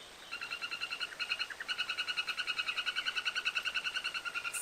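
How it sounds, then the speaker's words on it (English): Male golden dart frog calling with a long, melodious trill: a rapid, even train of bright pulsed notes that runs on for several seconds, clear and close over a quiet forest background. "he calls out with a long, melodious trill"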